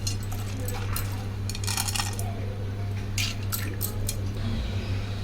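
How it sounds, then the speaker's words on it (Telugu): Washed toor dal drops into a pot for tomato pappu, making clattering, rattling bursts of grains hitting metal, with wet squishy sounds in between. "కందిపప్పు వేస్తున్నా ఫ్రెండ్స్."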